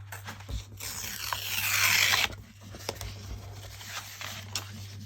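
Thick watercolor paper torn slowly by hand, a rising fibrous ripping noise that swells over about two seconds and then cuts off, followed by quieter handling rustles, close up.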